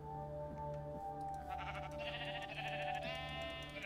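A video game sheep bleats repeatedly in wavering, nasal cries over a steady droning background, moderately loud with no talking.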